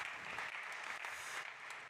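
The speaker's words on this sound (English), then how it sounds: "big applause for Jeremy" A conference audience at a fintech and insurtech startup competition claps for a presenter, a fairly faint, even wash of applause lasting a couple of seconds.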